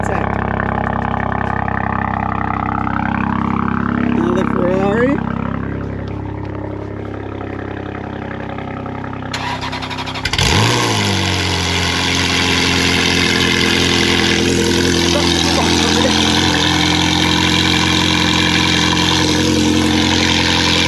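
A Toyota GR Yaris cold-starts nearby: a steady idle, a brief pause, then a sharp crank and catch into a higher, fluctuating fast idle that settles and continues loudly to the end.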